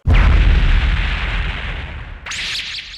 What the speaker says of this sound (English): Mid draws a bolt, whirlwind attack spell.